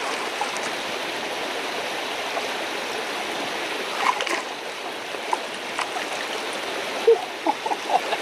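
Cold creek water flowing at a gold mine makes a steady, close rush and babble, with a few splashes and knocks near the end.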